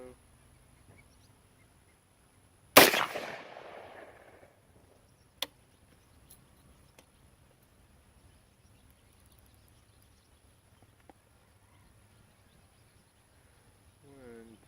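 A single rifle shot cracks loudly at a target during a comparison of budget 1-4x28 scopes, then rings off into a quiet outdoor setting with a few faint clicks.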